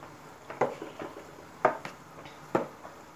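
A spoon stirs rice mixed with minced meat in a pot, making three soft scraping, clinking strokes spaced about a second apart, close and fairly quiet, with no talking.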